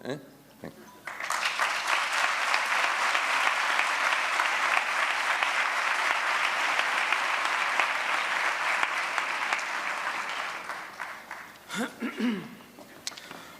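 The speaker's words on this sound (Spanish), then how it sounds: "yo os animo a que soltéis las emociones cuanto queráis, que aplaudáis" An audience at a Spanish commemorative ceremony marking 30 years since the dissolution of Pavía 19 breaks into long, loud, even applause that holds for about ten seconds, then tapers into scattered claps and talk.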